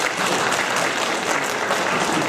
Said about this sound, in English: round of applause for the bottom string